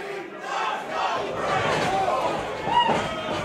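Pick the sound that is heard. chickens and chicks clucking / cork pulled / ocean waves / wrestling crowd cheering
wrestling crowd cheering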